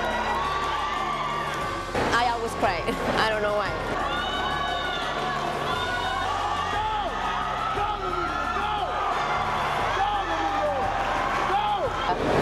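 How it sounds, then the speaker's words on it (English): A crowd cheers a runner on near the finish of a race, with whoops and shouts rising around him, steady and loud throughout while people talk close by. "All you hear is like everybody cheering him on"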